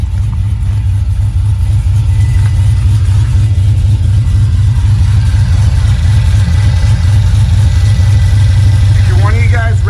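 A rear-mounted turbo car engine idles with a deep, rumbling exhaust tone, loud and steady close by, while a person talks over it.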